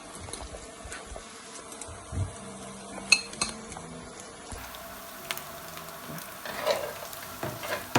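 Whole spices cook with fried onions and green chilies for chicken korma, giving a soft, steady sizzle broken by scattered clinks and scrapes of a utensil stirring the pan.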